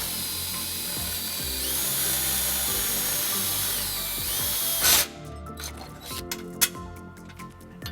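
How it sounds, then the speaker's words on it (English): A power drill with a 3/16 bit whines steadily for several seconds, then sputters into irregular grinding bursts as it bites through a 2010 Nissan Xterra's bumper, close by with no talking. "We're just going to drill the first hole using a 3/16 drill bit."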